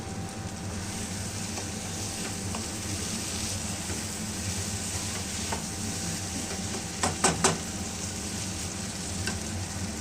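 Pointed gourd (potol) frying with spices in oil, a steady dense sizzle with stirring scrapes and a few sharp clinks of the utensil late on, no voices.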